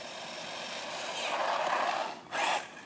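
A GP Toys S912 1/12 scale RC truck running at top speed, giving a continuous whirring motor whine that builds, dips briefly, then surges again near the end.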